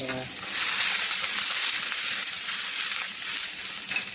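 Garlic sizzling in hot olive oil in a frying pan, a steady loud bright hiss that swells after a quick start and holds through, with no talking.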